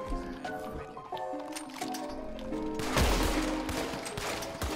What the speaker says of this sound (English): I'm hearing shooting.